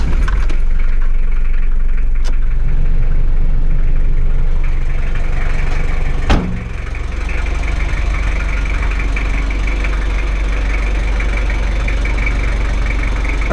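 A 1985 Toyota Hilux Surf SSR turbo diesel engine idles steadily with a deep, knocking rumble, interrupted once by a brief sharp clank before settling back into its low drone.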